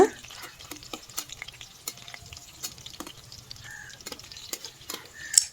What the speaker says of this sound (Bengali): তো চলো চিকেনের পিসগুলো ভেজে নিই